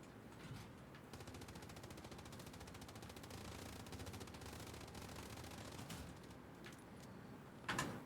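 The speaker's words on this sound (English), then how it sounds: "Machine gun." Machine gun fire in the Invictus video game rattles in rapid, sustained bursts, faint and distant beneath a busy battlefield background, with a sharper clatter near the end.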